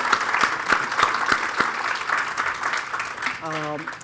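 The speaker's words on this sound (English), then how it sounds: "So a big round of applause to all of them." An audience at a technology workshop's closing and awards session gives a round of applause, a loud sustained patter of many hands with some individual claps standing out, ending as a brief tone sounds.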